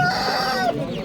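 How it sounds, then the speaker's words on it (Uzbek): Domestic hens and a rooster at a bazaar give a brief burst of clucking and a drawn-out call, close and clear against faint market background. "Bunaqa uy tovuqlarni ko'rdik."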